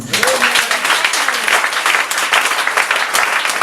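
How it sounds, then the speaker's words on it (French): A church congregation breaks into loud, sustained applause praising the Lord, dense steady clapping filling the room for several seconds with a few voices mixed in. "Acclamez le Seigneur"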